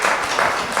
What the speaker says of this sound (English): Are you clapping me or clapping Tory?